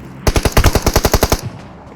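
A rapid automatic burst of about a dozen gunshots rings out in the PUBG Mobile video game, loud and close, then cuts off into quiet.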